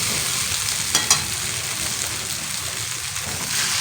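Potatoes for aloo dum fry lightly in a pan with a steady hiss and crackle of oil, broken by a couple of brief louder spits and stirring scrapes, close and alone with no voices.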